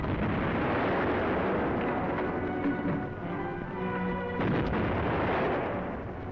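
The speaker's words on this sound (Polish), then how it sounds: "Ciężka artyleria pod Leningradem." Heavy artillery firing near Leningrad in a 1942 wartime newsreel, a dense continuous rumble of booms and bursts filling the whole stretch at steady loudness, with a sharper blast near the end, no voices.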